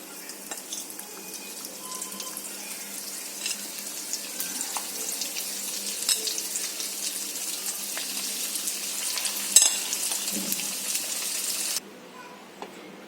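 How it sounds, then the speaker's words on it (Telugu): Prawns deep frying in hot oil in a pan on a stove, a steady hiss and crackle of bubbling oil that runs continuously at moderate level with a few louder pops, then drops suddenly near the end. "ఆ ప్రాన్స్ తెచ్చి ఇందులో ఫ్రై చేసుకుందాం, డీప్ ఫ్రై చేసుకుందాం"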